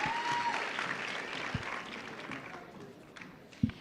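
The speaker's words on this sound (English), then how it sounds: "Give them one more round of applause." Crowd applause for a cosplay contestant at a comic convention contest, a steady wash of clapping that tapers off over a few seconds, with a couple of sharper thumps near the end.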